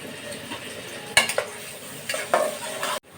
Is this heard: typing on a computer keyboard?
no